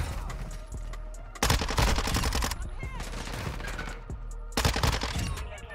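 Loud automatic fire from the Minibak submachine gun in Modern Warfare 2 comes in dense, rapid bursts. Scattered shots and game noise fill the gaps, and a voice is briefly heard.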